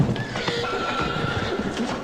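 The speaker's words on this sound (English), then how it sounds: "The horse began whining and shaking her head from side to side, trying hard to break free." Horse whinnying sound effect: a loud, close neigh with shaky, wavering calls over a dense rumble and clopping hooves, continuous for the whole stretch.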